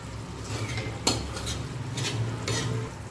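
Spatula scraping and stirring through tawa egg masala in a pan, with sliced eggs being tossed into the spiced gravy; steady close-up stirring with a few sharper metal scrapes and a faint sizzle underneath, no talking.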